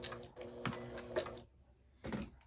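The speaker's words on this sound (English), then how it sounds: "I'm just going to keep sewing until I hit that 1/4 inch mark" A domestic sewing machine stitches binding onto a quilt edge in short bursts of rapid whirring and ticking, separated by brief pauses, close and fairly quiet.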